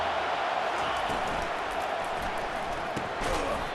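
Steady, dense stadium crowd roar in EA Sports College Football 25, a broad wash of many voices with faint cheering swells, heard alone without commentary.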